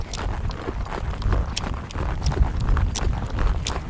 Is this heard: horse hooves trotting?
yes